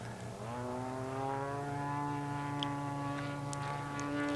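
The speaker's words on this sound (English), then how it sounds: "The sound of these things coming down the backside of the knife edge loop, particularly the large models, is really impressive." Large RC model airplane diving down the backside of a knife edge loop, its engine and propeller droning loud and steady with rising harmonic pitch as it descends close by.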